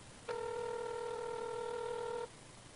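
A steady electronic telephone tone sounds for about two seconds on a call, a clean continuous beep that cuts off abruptly over a low background hum.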